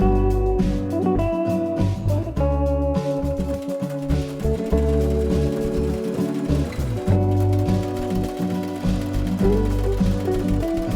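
Sewing machine stitching around two pinned fabric pieces, a steady mechanical whir with rapid repeated needle clatter, running continuously at close range with slight speed changes, no talk.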